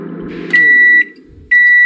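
A microwave app made with JavaScript/TypeScript sounds its timer with two loud, pure electronic beeps, each about half a second long, separated by a brief pause and playing alone without speech.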